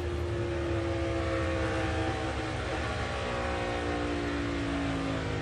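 Onboard a NASCAR Cup car driven by Daniel Suarez in the 2022 race at Las Vegas: a loud, steady engine drone with a harsh roar runs unbroken throughout, with no voices.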